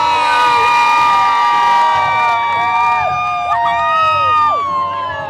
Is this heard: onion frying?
no